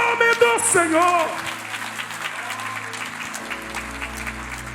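A church congregation applauding after the pastor's call, steady mid-level clapping through most of the clip, with a voice speaking over the opening second.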